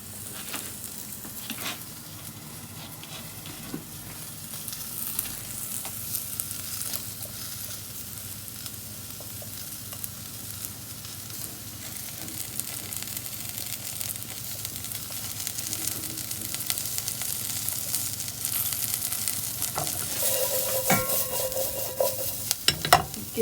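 Garlic frying in a pan while being stirred, a long steady sizzle with frequent soft scrapes and clicks of a utensil, growing slightly louder toward the end, no talking.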